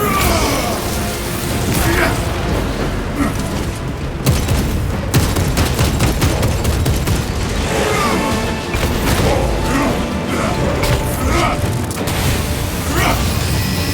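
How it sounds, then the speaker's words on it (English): A frag grenade blasts in Space Marine 2 during a co-op tactical mission, a loud broadband boom that breaks through dense, continuous gunfire and battle clatter. "Throwing frag grenade!"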